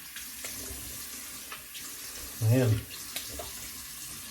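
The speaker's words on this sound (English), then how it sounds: "Oof, I'm gonna have to soak this one a little bit. Soak this brush." Tap water runs into a sink to soak a synthetic shaving brush, a continuous hissing stream that swells briefly louder midway, with someone talking over it.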